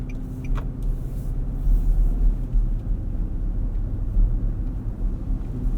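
A 2018 Infiniti QX80 4WD with its 5.6-liter V8 hums as a steady low rumble from inside the cabin, swelling slightly midway and holding an even drone throughout with no talking.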